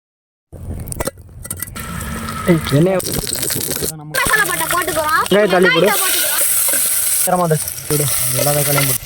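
Egg gravy with tomato, salt and garlic paste bubbles and sizzles steadily in a pan, a continuous loud frying hiss under a person talking.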